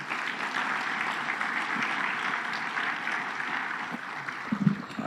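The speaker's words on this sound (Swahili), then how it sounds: "Bado tuongeze tena makofi mengi." Sustained audience applause for the President of Tanzania at a formal gathering, steady and fairly distant, with a brief faint voice near the end.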